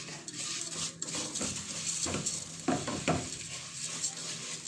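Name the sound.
vermicelli stirred in melted ghee in a pan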